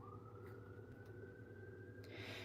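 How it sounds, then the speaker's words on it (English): A distant siren wails with a long steady tone, faint beneath a low traffic rumble, with a few brief clicks near the end. "you hear those sirens?"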